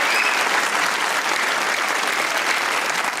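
Loud, dense applause from a TV talk show studio audience, a steady wash of clapping that continues without pause throughout.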